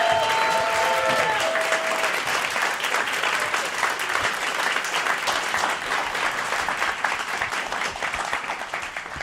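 Loud, sustained applause from a crowd, steady clapping that slowly fades a little over several seconds, with a few faint cheers at the start.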